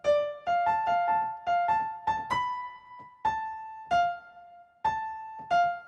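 A melody played in inversion, turned upside down, sounds as a dozen or so clear, sustained pitched notes, each struck crisply and left to ring with a slow decay, in a moderate, slightly uneven rhythm with no voices.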